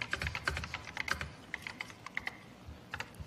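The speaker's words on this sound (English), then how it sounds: "you click, and you start typing." Light, irregular keystrokes tap on an Apple Macintosh computer keyboard from 1984, close and fairly quiet, with no talking over them.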